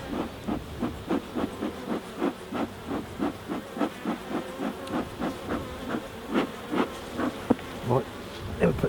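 A close, dense buzzing of many honey bees at an opened hive, pulsing in a fairly regular rhythm of soft surges, with no talking.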